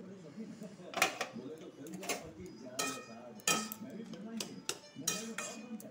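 A metal pot lid clinks and clatters several times in a home kitchen while pumpkin simmers for a mild shukto, with sharp close knocks spread across a quiet background.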